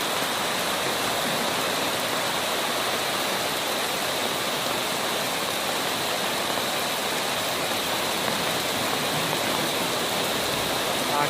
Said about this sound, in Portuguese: A água está levando embora.